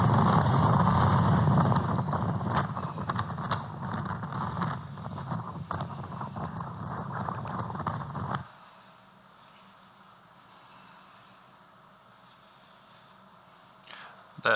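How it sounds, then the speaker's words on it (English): Strong wind roars across open saline ground, lifting a dust cloud, a loud broadband rush that buffets the microphone for about eight seconds before dropping to a faint, steady hiss. "Have a couple of videos here just kind of showing what is common when the wind blows."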